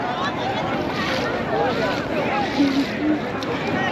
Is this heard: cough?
no